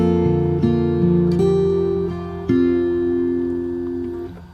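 Fingerstyle acoustic guitar plays a bar of a song, plucked notes ringing and overlapping into sustained chord tones, clear and close with no voice.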